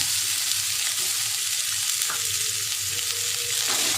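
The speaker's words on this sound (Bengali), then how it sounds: "ঘিটা দিয়ে দেবো এবার দেব গাজর আর মটরশুঁটি" Carrots and peas sizzling in hot ghee in a wok, a constant loud frying hiss with a few soft stirring scrapes, steady throughout with no voices.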